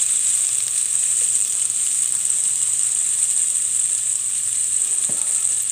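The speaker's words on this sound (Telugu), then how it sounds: "అది కొంచెం వేగిన తర్వాత అల్లం వెల్లుల్లి పేస్ట్ వేసుకొని అది కొంచెం ఫ్రై అవ్వనివ్వాలి." Ginger garlic paste frying in a pan while making chicken fry, a steady, even sizzle and hiss that runs the whole time, close up, with a faint stir or scrape near the end and no talking.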